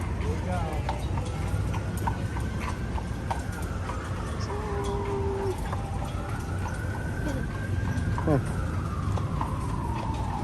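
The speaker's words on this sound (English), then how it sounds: "the horse up front is Elvis" Steady clip-clop of a horse's hooves on pavement pulling a carriage along the San Antonio Riverwalk, with a rolling rumble beneath, accompanied by faint whining tones and continuous background noise.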